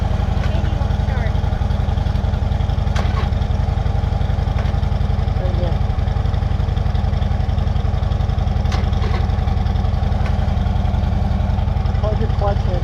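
A Harley-Davidson Iron 1200 motorcycle with a dead battery runs as a steady, loud low engine drone throughout, with voices talking over it.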